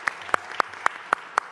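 A few sharp, evenly spaced claps ring out at a steady pace from an audience at an outdoor community announcement in New York City, with no talking.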